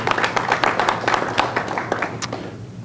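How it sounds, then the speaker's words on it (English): Audience applause at a Loudon, Tennessee candidate forum held by the Loudon Business Association: close, steady clapping from a room full of people that thins out and fades near the end. "Hold your applause, please."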